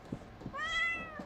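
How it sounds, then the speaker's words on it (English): A house cat gives one clear, drawn-out meow near the listener. It rises and then falls in pitch, with soft indoor bumps and rustles around it. "Is there meowing?"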